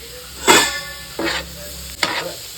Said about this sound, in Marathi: आता तव्यावरती कांदे परतून घेते